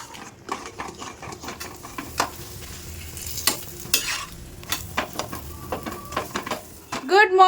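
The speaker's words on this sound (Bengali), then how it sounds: "পরোটা ভেজে দিই," A paratha frying in a pan, with a steady soft sizzle and scraping turns of a spatula throughout, near and fairly loud, ending in sharper clatter of utensils.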